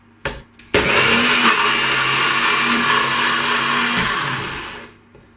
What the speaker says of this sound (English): I'm just gonna put the lid on and whiz this up in my NutriBullet until smooth